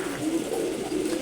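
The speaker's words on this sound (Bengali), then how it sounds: "আমার খুবই পছন্দের একটা নর কবুতর সবজি করা।" A male Sobji Gorra pigeon coos close by in a steady, rolling, low-pitched call, with no voices over it.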